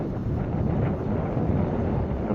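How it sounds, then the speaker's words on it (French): Strong wind buffets the microphone at an RC glider flying field, with a steady, loud broadband rumble and roar that holds throughout. "Il y a beaucoup de vent."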